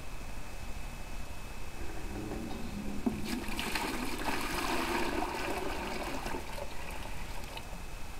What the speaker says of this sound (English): So I'm going to put some hot water in.